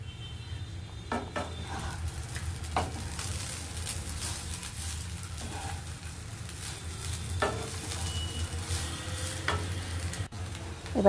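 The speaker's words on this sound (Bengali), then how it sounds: "দিয়ে ভালো করে নেড়ে চেড়ে নেব" A spoon stirs spiced vegetable pulao in a hot pan, with scattered scrapes and clinks over a low steady sizzle; close and moderately loud, with no talking.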